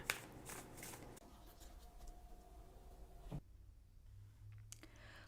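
Oracle cards being shuffled by hand during a tarot reading, soft riffling and sliding card sounds close by, with a few quiet taps and pauses, no talking.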